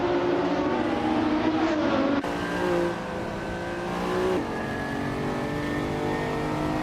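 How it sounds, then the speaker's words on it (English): A 1995 Dodge Viper RT10 races in a video game, its engine a loud, steady high-revving drone with a sharp gear shift midway and another shift later, close and alone. "Spearlike is driving a 1995 Dodge Viper RT10."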